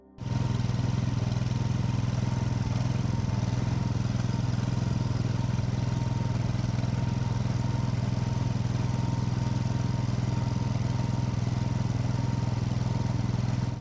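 A robot snowblower's engine runs steadily for the whole stretch, a loud, even mechanical drone with a low throbbing hum and no pauses.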